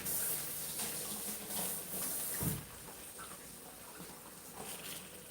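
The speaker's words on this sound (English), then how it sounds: "Now, I'm going to rinse my hand." Water runs from a tap into a sink as a hand is rinsed beneath it, a steady close hiss with a brief louder splash midway before settling to a softer flow.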